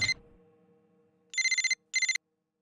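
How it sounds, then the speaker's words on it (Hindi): A telephone rings with an incoming call, two bursts of electronic trilling bell tone after a brief quiet moment, clear and close. "अरे रागिनी, सुबह सुबह तुमने फोन किया, बहुत अच्छा लग रहा है।"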